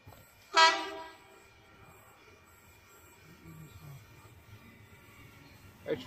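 A train horn blasts once, loud and near, at Wondabyne station, followed by a low rumble of rolling stock and a faint second horn at the end.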